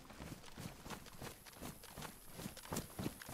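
Footsteps inside a house in the video game DayZ: a steady run of soft, muffled thumps at walking pace, fairly faint and heard alone against a low background.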